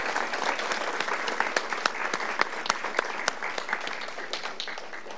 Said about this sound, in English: Let's give these students, and in addition to the one who couldn't be here, a round of applause for their outstanding achievement.